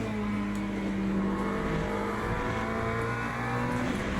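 A BMW GT3 race car engine in the Le Mans Ultimate racing game drones loudly and steadily at high revs, its pitch wavering slightly as the car holds speed.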